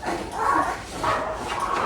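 Three-week-old puppies whimper and yip together in soft, high, wavering cries, close by and continuous over a couple of seconds.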